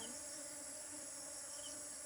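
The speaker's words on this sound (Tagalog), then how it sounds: "Ah, bubuyog po." Bees buzz steadily around flowers in a farm plot where string beans grow, a continuous close drone without talk over it.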